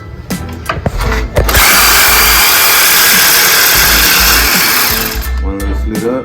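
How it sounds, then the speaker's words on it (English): A jigsaw rips through pallet wood in a workshop, a loud, steady buzzing whine that runs for several seconds after brief starts and stops, with someone speaking before and after the cut. "I'm gonna go cut this up. I'm gonna use a jigsaw."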